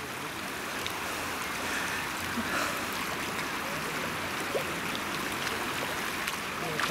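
Water rushing and rising at an outdoor spot in Quebec, a steady broadband wash with faint trickles, moderately near and constant throughout, without talk.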